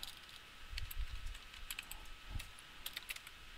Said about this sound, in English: So I'm going to type something in here.